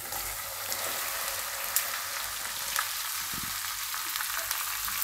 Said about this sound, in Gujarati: હવે આપણે એમાં હિંગ નાખી દેવું, અને આપણે એમાં ભીંડા નાખી દેવું બધા